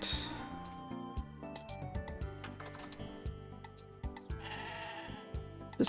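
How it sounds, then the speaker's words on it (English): Sheep bleating in the video game Discounty, heard as short bleats woven into bright, plinking background music that carries on throughout. "Just keep hearing those sheep."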